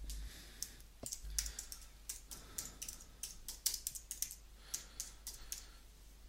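Quiet, steady typing on a computer keyboard in an indoor room, with irregular light key clicks and a soft low hum underneath, no voices.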